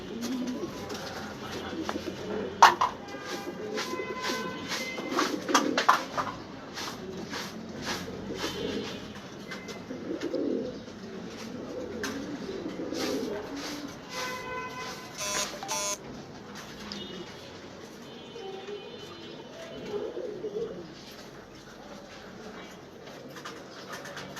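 Pigeons in a loft give soft, low cooing through the stretch, joined by scattered bright chirps and beeping tones, all under a steady roomy background.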